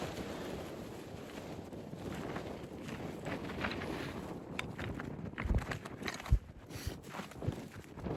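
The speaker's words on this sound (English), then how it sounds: "It's windy on the ridge though." Gusty wind on a mountain ridge near Donner Pass buffets the microphone in a constant roar, with a few sharper thumps and scuffs partway through; no one speaks.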